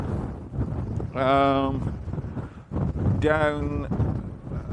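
Wind gusts buffet the microphone on open fell ground at sunset, a continuous low rumble under a voice, with two longer stretches of talk.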